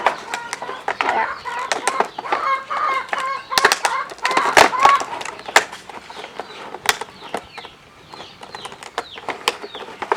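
Chickens cluck and squawk in short irregular bursts, close and fairly loud, with wing flaps and clattering noises mixed in while people talk nearby.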